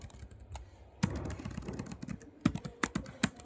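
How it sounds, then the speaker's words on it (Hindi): Typing on a computer keyboard, a quick run of light clicks and key taps with a few sharper strokes near the end, close and fairly quiet against a soft room background. "टाइप करना पड़ेगा"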